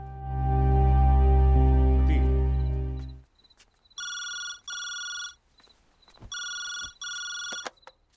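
A loud droning tone fades out, then a telephone rings in several repeated bursts of bright electronic trilling separated by short pauses.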